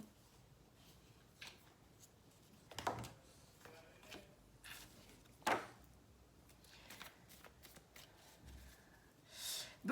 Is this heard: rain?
no